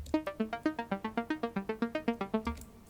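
Logic ES2 synth clicks, band-passed with EQ to remove lows and highs, repeat as a quick, steady stream of mellow plucked notes, around eighteen evenly spaced, close and quiet, alone without speech.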